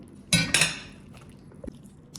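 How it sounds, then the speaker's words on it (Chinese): A kitchen knife splitting a fish head in half on a cutting board, two sharp heavy chops close together near the start, then a few softer taps and quiet handling. "鱼头呢，给它一劈两半，这个鱼牙齿一定要给它切掉"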